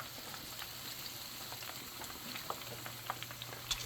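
A sauce for coconut shrimp simmering in a pot, a faint continuous bubbling fizz with occasional soft pops, quiet and steady with no talk.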